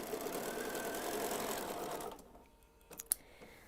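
A Bernina sewing machine stitching a quilt runs in a steady, close, loud hum for about two seconds, then stops, leaving a few faint clicks and taps.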